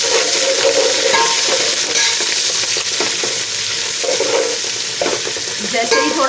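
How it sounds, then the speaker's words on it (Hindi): Ginger garlic paste frying in a pot after black peppercorns, cloves, cumin and black cardamom, a steady close sizzle with scraping stirs running throughout. "इसके बाद फ़ौरन ही हम अदरक लहसुन का पेस्ट फ्राई करेंगे इसको"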